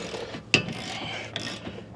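A ratchet breaks loose a caliper bracket bolt on a 2019 Toyota RAV4 rear brake, giving one sharp metallic crack followed by brief clicking of the pawl, close and fairly quiet.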